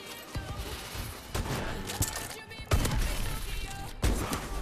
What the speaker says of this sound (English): Playing AW with an LMG.